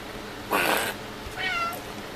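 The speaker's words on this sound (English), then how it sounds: "I wish you guys knew how to do more stuff than just go meowing stuff" Two cats meowing near the microphone, one drawn-out meow followed by a shorter, higher one after a brief pause, over faint background noise.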